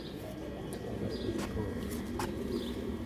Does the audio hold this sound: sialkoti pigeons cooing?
yes